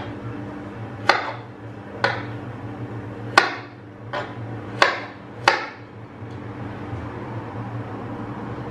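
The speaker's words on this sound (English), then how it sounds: "we'll then cut it into pieces" A knife chopping food into pieces on a board while cooking: six sharp, separate knocks spaced roughly a second apart, close and clear, followed by a quieter stretch.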